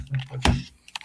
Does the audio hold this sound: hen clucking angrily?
no